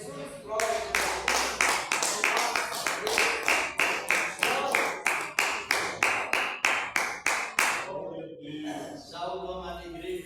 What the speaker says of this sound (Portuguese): Com as palmas para Jesus,